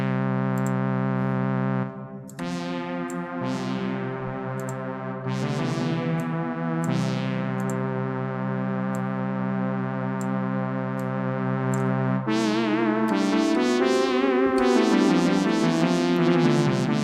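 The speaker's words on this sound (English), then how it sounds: "I'm going to put some reverb on this." OB-Xd software synth, modelled on the Oberheim OB-X, playing a brassy prog-style patch through rack reverb: loud sustained chords with held notes, several chord changes, and a reverberant wash thickening toward the end.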